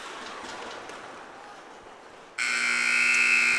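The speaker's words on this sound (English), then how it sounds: "And there's the buzzer." At a women's hockey game, a loud, steady electronic end-of-period buzzer sounds suddenly over the arena's crowd murmur and holds to the end.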